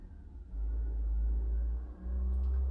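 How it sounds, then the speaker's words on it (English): A big dump truck outside gives a deep, steady engine rumble, continuous and muffled, dipping briefly before rising again. "Big dump truck outside."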